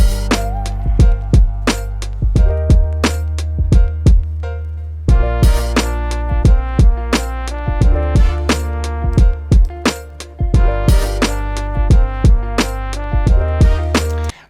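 An FL Studio hip-hop beat plays loud and alone, with punchy drums and heavy bass under a bright trumpet melody and chopped vocal snippets, the pattern briefly dropping out near the midpoint before the full hook returns.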